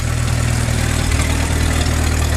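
A 1927 Farmall Regular tractor engine runs steadily at idle, a loud, continuous low rumble with an even, pulsing beat that stays unchanged throughout, with no voices.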